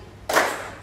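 A single sharp burst of hand clapping in a classroom clapping game, one loud clap or a tight group of claps that rings briefly and fades, heard alone.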